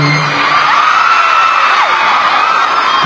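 A packed crowd at a mall event in Naga screams and cheers with high, shrill voices, loud and sustained throughout as a continuous roar of excited shouting.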